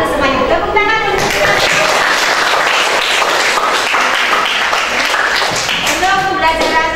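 Classroom students applaud together in a dense, loud burst of clapping, with a teacher's voice heard at the start and again as it fades.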